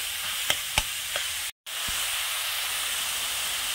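Mushrooms frying in a pan with a steady, close sizzle and hiss, punctuated by a few sharp utensil clinks from stirring early on, a brief cut to silence, then continuous frying.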